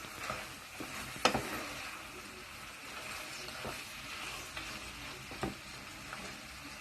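Green beans with mushrooms, parsley and lemon pieces are stirred in a sizzling pan. A soft, continuous fry is broken by a few scraping strokes and clinks, fairly quiet, with no talking.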